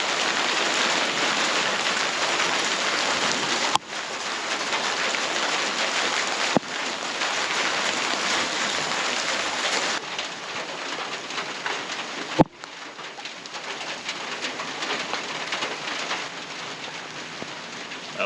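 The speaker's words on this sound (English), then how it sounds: "Summer rain. Fantastic for the garden." Summer rain pours down over an Italian farm garden, a dense, loud, continuous hiss of drops on surfaces with a few brief sharp breaks, and no talking.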